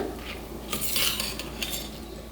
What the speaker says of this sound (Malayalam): റൈസ് ചേർത്ത് നന്നായിട്ട് ഒന്ന് ഇളക്കി കൊടുക്കുക